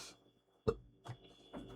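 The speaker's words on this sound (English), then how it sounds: "I do apologise for that burp." A single short, abrupt burp rises from a quiet room and ends quickly, followed by a couple of softer, faint throat sounds.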